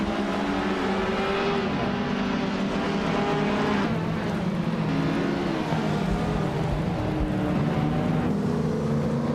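Racing car engines roar continuously in a video game race featuring a 1963 TVR Griffith 200, loud and steady with shifting engine pitch throughout, no talking.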